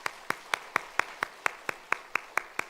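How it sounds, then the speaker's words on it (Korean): A church congregation claps in unison during a Sunday service, about a dozen evenly spaced, crisp claps in a steady rhythm, faint and heard from a distance with no talking. "우리 격려 박수 부탁드립니다."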